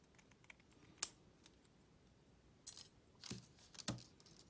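Cutting material with scissors while making custom LED interior lighting for a Kato 701 Series model train, a few sharp, close snips spaced apart over quiet background, no voices.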